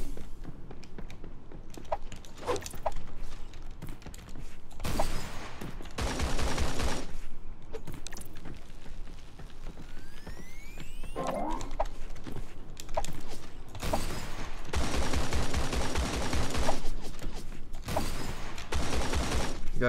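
Grenade launcher and other gunfire in the shooter game Creative Destruction, with several loud bursts of firing separated by quieter stretches of in-game noise and movement.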